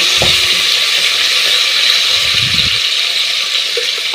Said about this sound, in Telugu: పచ్చిమిర్చి వేసుకోండి తర్వాత కొంచెం కొత్తిమీర్ వేసుకొని మంచి ఫ్రై చేసుకోవాలి